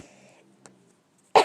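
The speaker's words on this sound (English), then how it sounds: "Sorry, that was a cough." A single sharp cough bursts out loud and close after a quiet stretch with faint background murmur, alone and abrupt at the end.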